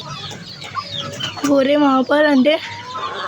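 A hen clucks and calls in a coop, with a few loud drawn-out squawks in the middle, while someone speaks close by.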